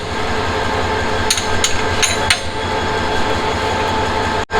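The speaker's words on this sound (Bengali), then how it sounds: "ইঞ্জিনটা এই বগির সাথে এখন লেগে যাবে।" A locomotive coupling onto a carriage of the Mohanganj Express in Bangladesh, heard as a few sharp metallic clanks in a quick cluster over a steady, loud rumble of rail noise, ending in a sudden brief dropout.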